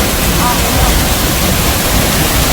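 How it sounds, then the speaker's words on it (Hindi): A waterfall in Nawada, Bihar gushes after heavy continuous rain, a loud, dense, unbroken roar of falling water filling the whole clip with no pauses. "लगातार हो रही बारिश से झरने से बेतहाशा पानी गिरने लगा।"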